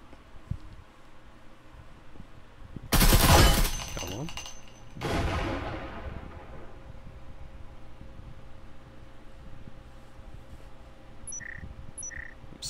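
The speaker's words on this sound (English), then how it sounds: "assuming that's an enemy shooting over there" Bursts of enemy gunfire in the Breachers VR video game crack out in two loud, harsh blasts close together, followed by a quieter, muffled stretch with faint background hiss.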